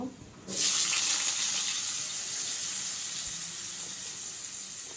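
Potatoes and radish drop into hot oil, and a loud, steady bright sizzle bursts in abruptly, then holds with a slow fade.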